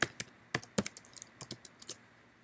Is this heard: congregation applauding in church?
no